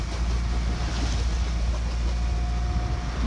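Sea swell rolling around a sailboat off Greek islands against a headwind, a constant loud rushing wash of water and wind with a low rumble underneath and no voices.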